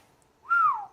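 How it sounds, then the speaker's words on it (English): A single sharp whistle rising and sliding down in pitch, loud and close, after a near-silent pause, in the middle of a card-game session. "Sorry if that whistle was really sharp."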